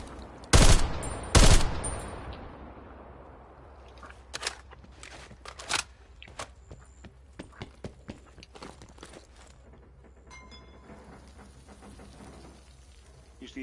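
Full-auto AK assault rifle fire in a video game: two loud, close bursts open the clip, then a long run of quieter scattered shots and rattling clicks, with a voice faintly underneath.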